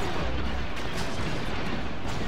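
Continuous blaster gunfire pounds against a shield in Star Wars Battlefront 2, a loud, dense, unbroken barrage with no pauses.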